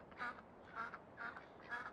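Ducks in the Farming Simulator 17 game, on water near a farm, give four evenly spaced nasal quacks about half a second apart, moderately close, over a faint steady background.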